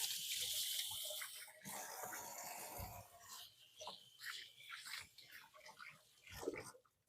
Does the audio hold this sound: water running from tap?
yes